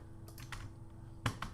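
A handful of keystrokes on a computer keyboard that is not in great shape, scattered taps with one sharper clack near the end, fairly faint over a steady background hum.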